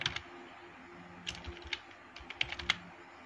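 Clicks of a computer keyboard while text is entered into a document, a few sharp, distinct keystrokes spaced irregularly against a quiet background, close and fairly loud.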